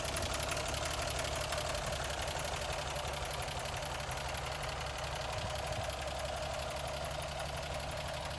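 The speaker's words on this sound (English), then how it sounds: "So we have once again, we have a Frandee SnoShu machine." The engine of a Frandee SnoShu snowcat runs at a steady idle, a close, continuous mechanical drone with a fast even knock and no voices.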